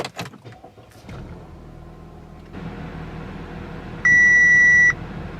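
An Audi A4 with a defective ignition lock gives a single sustained warning beep of nearly a second, loud and close inside the cabin, after clicks and a low idling hum.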